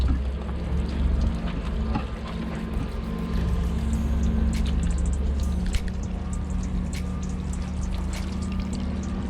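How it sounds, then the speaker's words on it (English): Water trickling and pouring out of the engine systems of a sunk boat as the engine is turned over by hand, a steady continuous splashing flow with a low mechanical rumble beneath, close and fairly loud throughout. "we'll be getting all the water that is left in all of the different systems to drain out"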